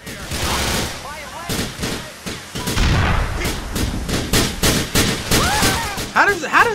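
Grand Theft Auto IV street combat with dense, loud gunfire in rapid bursts and heavy grenade blasts, nearly continuous and close, with a voice briefly audible in the chaos.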